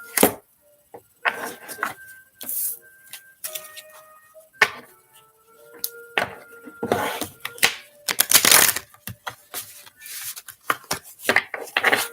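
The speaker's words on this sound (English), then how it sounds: "Sometimes I have to do a double shuffle with these cards because they're so big." Oversized playing cards being shuffled in uneven bursts of riffling and slapping, close and crisp, with brief quiet gaps between the shuffles.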